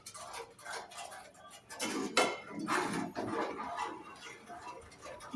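A spoon clinks and scrapes against a metal pan as spices are stirred into cold ghee with the stove off, making irregular metallic taps and rattles close by.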